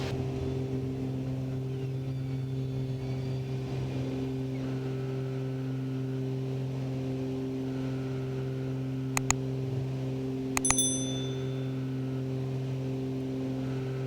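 Private plane climbing out just after takeoff from runway 27, a steady droning engine hum with strong low tones held throughout, and a couple of brief clicks near the end.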